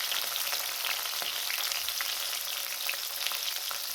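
Onion, capsicum, tomato and green chilli frying in a pan, a dense, even sizzle close up with faint crackles throughout and no voices.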